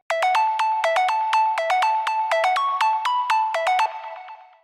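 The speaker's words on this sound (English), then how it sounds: "So first up is this sine lead, and I made this in Serum." A sine wave synth lead made in Serum plays a bright, plucky melody of quick staccato notes, loud and alone, fading out at the end.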